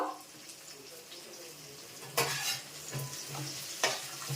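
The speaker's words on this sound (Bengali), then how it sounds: "আলু আর উচ্ছে ভাজতে থাকবো।" Thin-sliced potatoes and bitter gourd frying in a pan on the stove, a quiet close sizzle broken by a few bursts of stirring and scraping spatter.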